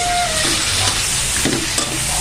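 Chicken being stirred and sautéed for pancit bihon in a hot pan, with a loud, close sizzle and scraping stirs throughout a short burst and no talking.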